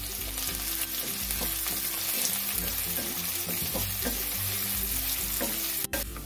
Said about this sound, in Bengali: পেঁয়াজটা আমি হালকা করে ভেজে নিলাম।